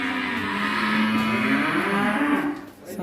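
Cattle in a farm pen lowing, one long, loud, close moo that rises and holds for about two and a half seconds before trailing off, with faint farmyard noise behind.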